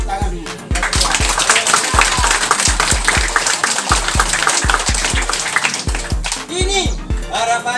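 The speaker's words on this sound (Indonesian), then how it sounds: "yang depan tepuk tangan dulu" Schoolchildren at an Indonesian state primary school, SDN Salamsari in Temanggung, clap their hands in a steady, loud, closely spaced run of claps that lasts the whole stretch, with a voice briefly heard among them.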